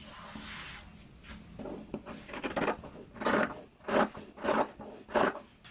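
Scissors trimming the fabric seams of a sewn jacket collar, a run of rough, rasping cuts and rubs that come in separate strokes, gathering into four or five distinct snips near the end, close by with no talk.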